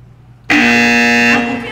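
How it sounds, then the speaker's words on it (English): A game buzzer sounds once at a live storytelling stage show, a loud, steady tonal blare lasting under a second after brief quiet. "I almost forgot! There's a buzzer."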